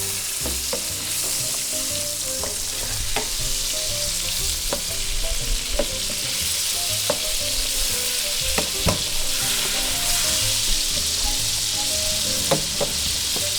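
Anchovies and onions frying in a pan, a dense, steady close sizzle with a few soft clicks and stirring taps scattered through, no voices.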